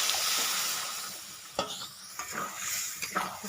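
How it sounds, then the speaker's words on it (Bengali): Lentils with cauliflower, carrot, potato and spices get stirred in a pan over a soft sizzle, with a few scraping strokes of the spoon close by and no voices. "নাড়িয়ে একসঙ্গে করে নেব"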